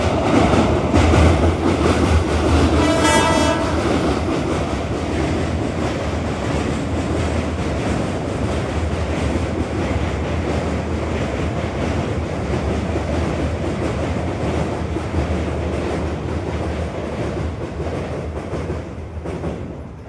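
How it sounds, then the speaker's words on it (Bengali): A train rolls past close by near Kalipur, Arambagh, a loud continuous rumble with rhythmic wheel clatter that holds for the whole stretch and eases slightly at the end. "আপনাদেরকে সেকেন্ড ট্রেনটাও যেতে দেখালাম"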